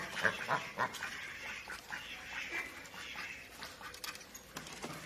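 Several homestead ducks quack repeatedly nearby in a garden, a busy overlapping chorus over soft outdoor background noise.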